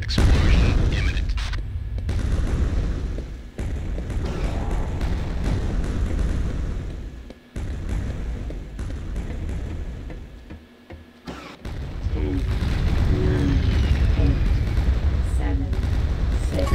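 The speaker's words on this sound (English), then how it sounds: "Explosion imminent." Loud, booming explosions from the video game Quake 2, part of a continuous, dense stream of game sound with no talk, briefly dropping off twice before the blasts resume.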